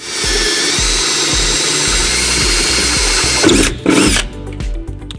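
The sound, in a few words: drill enlarging pilot holes to 3/8 in aluminum truck bed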